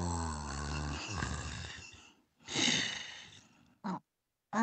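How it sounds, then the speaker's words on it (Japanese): Two drawn-out, rumbling snores with a wheezy exhale between them, followed by a short snort, close and fairly loud with no talking, in the video game Sakuna: Of Rice and Ruin. "剣のくせにいびきをかいて眠るなど"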